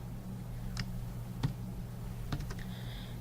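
Someone types on a computer keyboard while coding JavaScript, a few soft scattered key clicks over a steady low hum, close and quiet with no talk.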